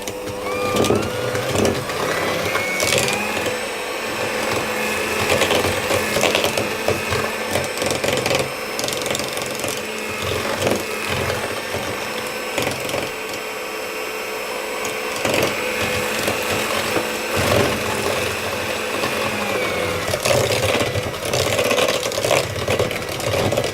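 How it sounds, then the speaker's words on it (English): Egg yolks are beaten into the batter for a caramelised apple shortbread cake, producing a continuous mechanical whirring and rattling that runs steadily with small rhythmic knocks throughout. "And then I'm going to add the eggs in and beat those in."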